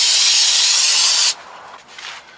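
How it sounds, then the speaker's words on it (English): Carburetor cleaner sprayed from an aerosol can onto a truck carburetor: one loud, steady hiss lasting just over a second, then cutting off, followed by a fainter brief spray hiss. "I'm going to go ahead and take carburetor cleaner. I'm just cleaning the carburetor up."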